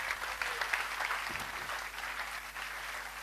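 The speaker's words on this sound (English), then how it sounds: "Please give her a round of applause" Audience applause at a conference talk, steady clapping from a seated crowd filling the room at a fairly even level throughout, with no voices over it.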